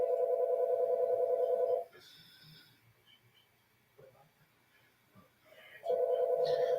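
A phone ringing with a call from an eye doctor's office, two loud bursts of steady electronic ringing separated by a few seconds of quiet room noise.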